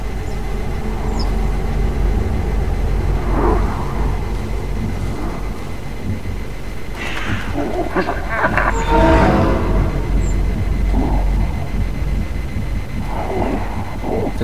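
Train rumbling in the video game Little Nightmares II, a steady low roar with clanking and metallic scraping bursts that swell around the middle before settling back to a continuous drone.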